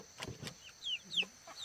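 Hens near laying age clucking in a farmyard, several short calls and chirpy rising notes spread across the moment, fairly close and clear over quiet surroundings, with no talk.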